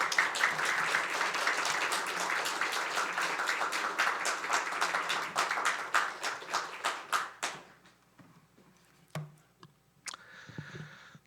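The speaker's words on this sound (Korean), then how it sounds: "박성현 목사님 앞으로 나와주실 때 큰 박수로 맞아주십시오" A church congregation gives a warm round of applause during a Sunday anniversary service, dense clapping for about seven seconds that thins to scattered last claps, then a few soft thumps and brief quiet murmuring.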